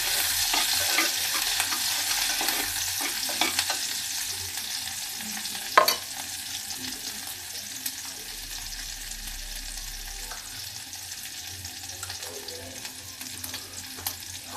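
Chopped green chillies hit a pan of sarson saag, frying with a steady close sizzle and stirring scrapes, one sharp clank from the spoon midway.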